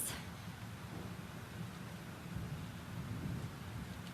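A thunderstorm in the video game Life Is Strange, a steady low rumble of thunder and rain that swells slightly toward the end, heard alone without voices.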